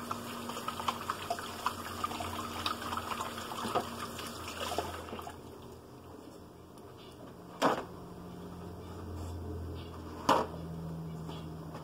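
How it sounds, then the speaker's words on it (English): Kitchen tap running as someone washes their hands, a faint steady trickle of water with a couple of brief louder splashes or clunks, heard at low level from nearby. "Wash my hands."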